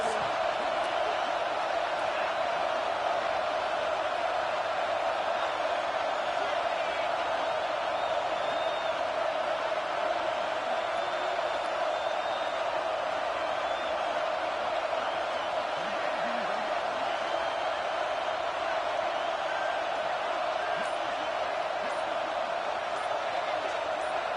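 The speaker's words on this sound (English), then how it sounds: "this crowd is coming to help the defense" A stadium crowd at an American football game roars steadily, a dense, continuous wall of far-off cheering and noise that holds even and loud throughout, with no single voice standing out.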